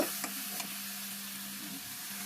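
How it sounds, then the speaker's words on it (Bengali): Shrimp frying in a pan with boiled taro stems, a steady close sizzle with a couple of faint stirring knocks, no talk. "চিংড়ি মাছ দিয়ে ওটাকে বাগার দিব"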